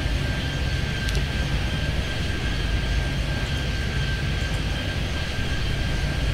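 Small and large airliners landing in Airport Madness 3D, a steady broadband engine roar holding level throughout with a thin high whine above it, continuous and fairly loud with no talk.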